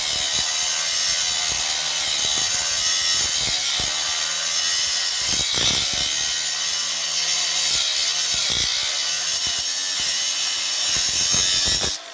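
Steady hand sawing with a rasping, scraping texture while cutting a part during work on a Massey Ferguson 35 tractor's 3-cylinder diesel water pump install, close and continuous for about twelve seconds.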